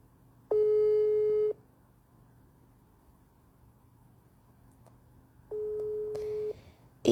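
Two long steady telephone call tones, each about a second, separated by a quiet pause, heard while phoning a friend on a live broadcast; a brief clatter follows at the end.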